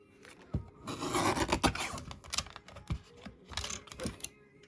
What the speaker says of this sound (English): I'm just going to trim this off with my little cutter